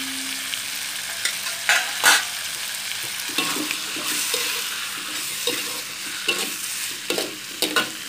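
Potatoes and cuttlefish stir-frying in a pan for a soy sauce fry: a steady sizzle under repeated sharp scrapes and knocks of a spatula against the pan, close and fairly loud, with no talking.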